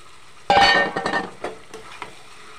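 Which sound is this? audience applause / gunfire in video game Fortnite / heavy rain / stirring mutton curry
stirring mutton curry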